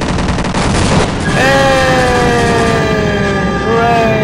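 Sustained gunfire in the Half-Life video game, a loud continuous barrage overlaid by a rising siren-like tone, with no speech.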